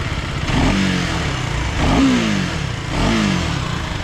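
A 390 Adventure motorcycle engine idles with a throaty rumble, then revs up three times in short bursts, each rising and falling back, close by.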